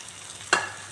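Chopped ridge gourd dropped into a hot oiled pan, setting off one sudden close burst of sizzling that quickly settles into a softer frying hiss.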